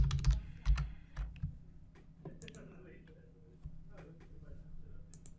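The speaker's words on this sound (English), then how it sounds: "So in this case, I'm going to type in my YouTube video." Typing on a computer keyboard while adding web content, irregular bursts of close, crisp key clicks with pauses between, heard alongside a voice talking.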